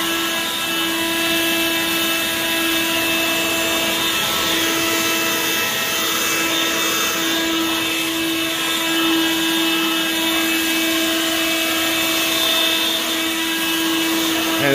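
A Litheli 40v brushless leaf blower blowing leaves runs at full speed with a constant, close, high-pitched motor whine over a rushing air roar, steady and unbroken with no talking.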